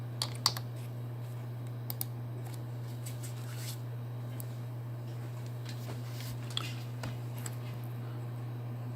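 Steady typing on a computer keyboard while working in Word: a quick run of close, light key clicks with occasional louder taps over a constant low hum.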